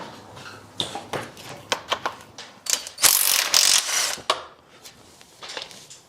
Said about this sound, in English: So impact gun I think is going to be the quickest way to do this.